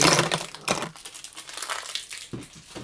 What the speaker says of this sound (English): of wrapping paper noise going on.